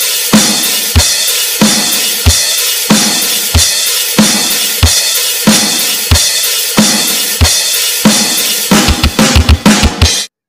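An acoustic drum kit plays a loud, steady rock beat of kick, snare and crash cymbal, from a chorus part of a song, ending in a quick run of rapid hits before stopping abruptly.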